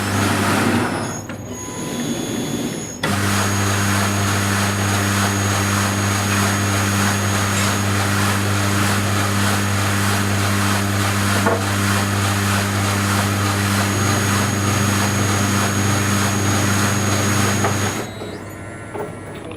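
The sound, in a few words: Rollmatic Eurolabo pastry sheeter running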